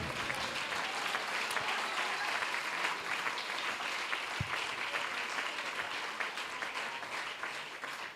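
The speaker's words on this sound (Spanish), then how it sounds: "A ver, aplausos para el Señor." A church congregation at a worship service claps together in a sustained, even wash of applause, fairly loud and continuous for several seconds with a single sharper clap standing out midway.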